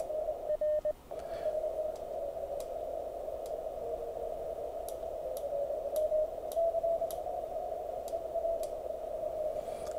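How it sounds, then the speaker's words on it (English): A steady sidetone hum from a Mountain Topper QRP radio holds at the center of a faint hiss, with a brief keyed beep pattern near the start and light clicks throughout. "I can hold down RIT until I hear the letter R"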